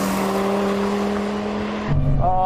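A Dodge Viper GTC with a V10 and an 850-horsepower Mustang race toward the finish line, giving a loud, sustained engine drone that cuts off abruptly near the end.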